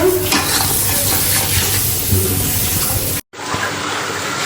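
A spice paste sizzles steadily in a hot pan while it is stirred and scraped for a home-cooked Bengali curry of rohu fish with taro and potato. The frying sound is close and continuous and cuts off briefly near the end.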